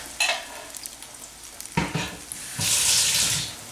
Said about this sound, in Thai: ทีนี้เราก็ค่อยเจียวเขาให้ได้ที่ให้เหลืองทั้งสองด้านนะคะ